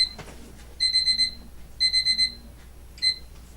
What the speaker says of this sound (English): my medicine alarm always goes off during a video